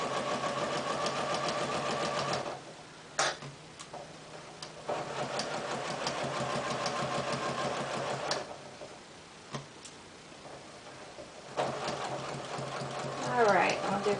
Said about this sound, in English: let's go ahead and do a back tack at the top and the bottom of this stitch line here.